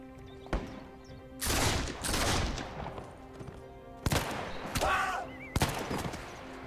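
Musket volleys in a video game battle: several loud crackling bursts spaced a second or two apart over a humming background, with a faint voice between them.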